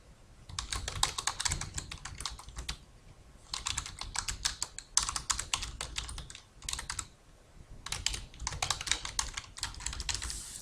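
Steady typing on a computer keyboard while entering text into a chat window, coming in several bursts of quick key clicks separated by short pauses, close and fairly quiet.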